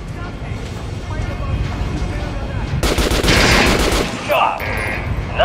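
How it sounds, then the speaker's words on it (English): Video game gunfire at a target-practice dummy in Metro Last Light, a dense rapid burst of shots lasting about a second, loud over a steady game soundscape with some background talk. "Try shooting from the center of the regular dummy's chest."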